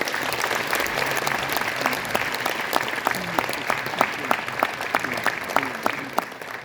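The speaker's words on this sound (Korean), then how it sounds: "큰, 큰 박수로 맞아주세요" An audience at a Korean political gathering on election fraud claps to welcome a former lawmaker to the podium, many hands making steady, moderately loud applause that holds for several seconds.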